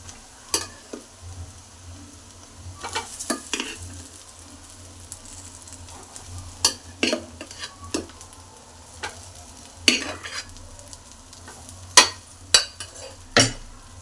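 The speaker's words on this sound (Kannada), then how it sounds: "ಇವಾಗ ಬೇಯಿಸಿರುವಂಥ ಅನ್ನನ ಹಾಕೋತಾ ಇದ್ದೀನಿ." Cooked rice is tipped into a pan and stirred for egg rice, with irregular spoon clinks and scrapes against the pan over a low, quiet sizzle, close and intermittent.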